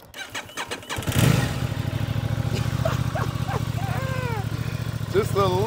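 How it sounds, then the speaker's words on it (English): A Ducati Panigale V4 sport motorcycle with stock exhaust cold-starts near the mic, then settles into a loud, steady idle with a rapid throbbing pulse; voices and whoops sound over it. "Let's get this cold start going."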